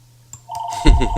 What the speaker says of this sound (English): Our landline's ringing.